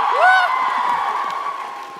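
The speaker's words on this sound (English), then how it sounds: "the amount you cheer for everything will fill that time up great" A crowd at a TwitchCon panel cheers and whoops loudly and up close, with a high shout rising above a sustained roar that slowly fades.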